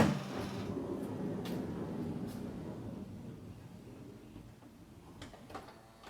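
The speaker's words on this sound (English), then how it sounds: "So the door is open all the way, so let's close it." A Honda Odyssey minivan's sliding door rolls closed along its track with a low rumble, punctuated by a few faint clicks, fading quieter toward the end.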